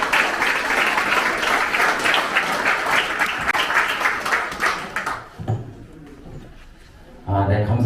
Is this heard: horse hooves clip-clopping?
no